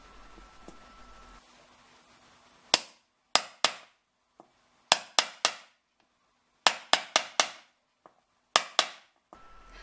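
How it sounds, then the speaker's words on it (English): Sharp metallic hammer strikes on a dapping punch shaping a metal disc into a jewellery bead cap ring out in quick clusters of two to four blows, separated by short silences, each hit close and bright with a brief ringing decay. "I'll use my largest dapping punch and hammer several times"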